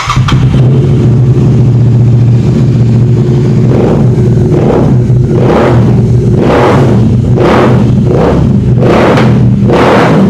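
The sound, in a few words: second-hand superbike engine running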